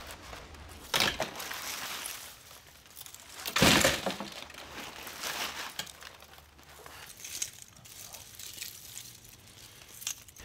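Scrap copper motor pieces are tossed into a bin in a few loud, clattering metallic crashes and clinks, separated by quieter rustling and handling noise.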